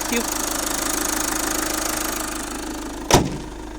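A VW Passat B6 2.0 TDI diesel engine idles with a steady, even knocking rumble throughout, heard from inside the cabin, followed by a single short thump near the end.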